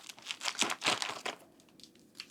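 A wound dressing package from a first-aid kit is handled up close, its plastic wrapper giving off a quick run of crisp crinkles and crackles that thin out toward the end.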